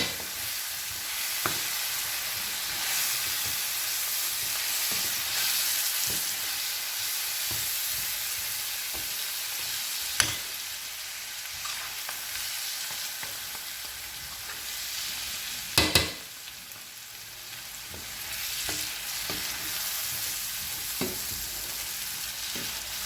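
Paella sizzling and being stirred in a frying pan, a steady close hiss of frying broken by occasional scrapes and knocks of the spoon against the pan, with no talking.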